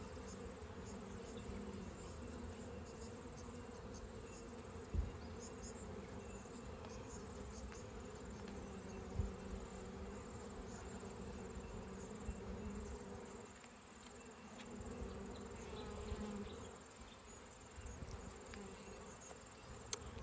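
Honeybees hum in a dense, continuous buzz around an open Langstroth hive, steady and close throughout with no talking.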